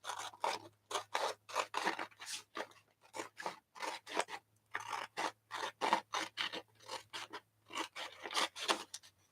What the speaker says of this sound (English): I can cut on the lines for the gold stripes.